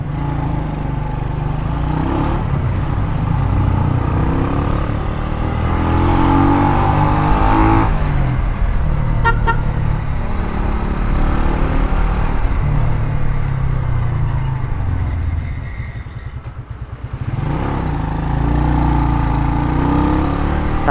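Motorcycle engine fitted with a Classico Bullet Pipe version 4 exhaust, running loud and steady throughout with a deep rumbling drone, rising and falling slightly, dipping briefly near the end before picking back up.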